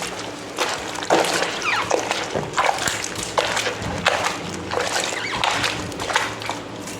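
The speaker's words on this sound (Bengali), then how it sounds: "বাবাইয়ের এই প্যান্ট জামাটা ভেজাতেই ভুলে গেছি, তাই একবারে ভিজিয়ে দিই" Clothes are pushed and soaked in a tub of water at home, making repeated close sloshing splashes and swishes in an uneven rhythm, with no voices.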